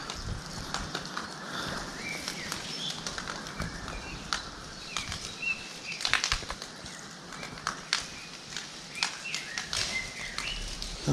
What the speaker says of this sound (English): Hello, Mr. Pigeon.